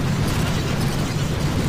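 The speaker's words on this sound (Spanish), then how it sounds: "Aquí vamos a disparar estos fusiles." Rifle fire and explosions in the Boom Beach mobile strategy game, a loud continuous barrage of overlapping blasts and rumbling booms with no pauses.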